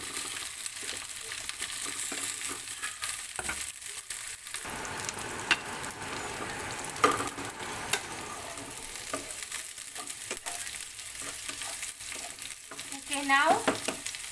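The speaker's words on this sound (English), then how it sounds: "We have to saute like for 5 minutes. Just leave it and saute." Okra sautéing in a pan for an Indian okra masala, a steady broad sizzle running the whole time with a few clinks and scrapes of stirring, loudest near the end.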